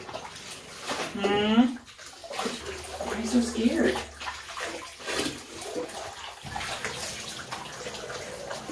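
Warm water running into a bath, a soft steady splashing behind close talk, with a voice and an adult speaking over it.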